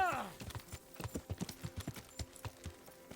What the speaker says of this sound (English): He's the hippinest, hoppinest horse.